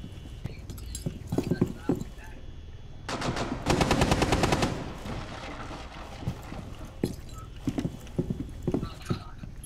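Gunfire in Rainbow Six Siege on the Bank map: scattered single shots, then a dense burst of rapid automatic fire around the middle, followed by more sporadic shots and faint voices.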